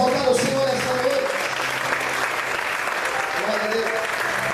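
A church congregation claps and cheers in steady, dense applause that fills the room for several seconds, with voices calling out beneath the clapping and a sustained tone running underneath.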